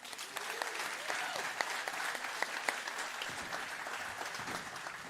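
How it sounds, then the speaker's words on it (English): Steady applause from an audience at a Sunday church service gathering, fairly faint and distant, with a few sharper claps standing out from the dense clatter throughout. "Give them a round of applause"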